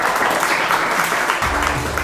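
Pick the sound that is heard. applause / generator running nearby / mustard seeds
applause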